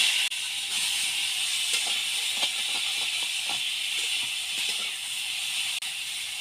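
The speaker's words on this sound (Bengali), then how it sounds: "এবার কেটে রাখা উচ্ছে আর আলুগুলো আমি ভেজে নেব" Bitter gourd and potato pieces frying in mustard oil in a kadai make a continuous loud hiss. Soft stirring scrapes and taps come through underneath, and no voice is heard.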